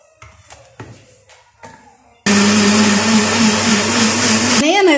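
A blender switches on abruptly and grinds boiled carrots with a loud, steady, high-pitched whir for over two seconds, then dips in pitch at the end; softer clatter and a voice-like murmur come before it starts.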